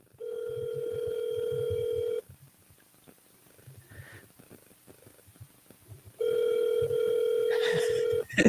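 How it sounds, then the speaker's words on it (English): A telephone call rings out on the line, two long steady ringback tones separated by a quiet gap with faint background noise, the second tone ending in a brief click. "We're calling her right now."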